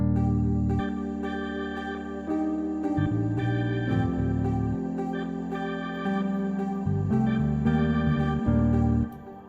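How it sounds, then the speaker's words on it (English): A synthesized bass guitar plays a walking, jazzy line alone, with plucked notes moving steadily up and down at a moderate, even volume. "I used the Ibanez bass."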